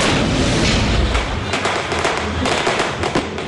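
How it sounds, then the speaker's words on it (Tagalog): Firecrackers and fireworks going off at New Year midnight in the Philippines, a loud, continuous barrage of overlapping bangs and pops that never lets up, with no voices. "Kasabay ng pagdagundong ng mga paputok kaninang hating gabi."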